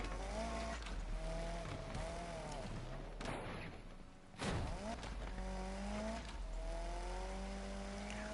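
A car driven in the Need For Speed Unbound video game roars steadily with engine tones rising and falling through gear shifts, one brief loud burst partway through, and a voice talking faintly underneath.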